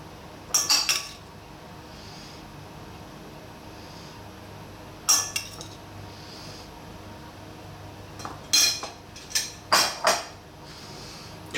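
Cutlery scraping and clinking against a plate while filling is spread on buttered sandwich bread for a mozzarella, tomato and oregano grilled cheese, in short close bursts separated by quiet pauses.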